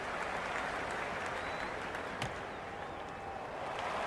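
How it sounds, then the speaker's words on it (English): Steady roar of applause and cheering from a packed cricket stadium crowd in a video game, a dense wash of clapping that holds level throughout with no talk over it. "It's the most enthusiastic crowd you could ever see right now. There's a buzz, a real buzz coming from the stands."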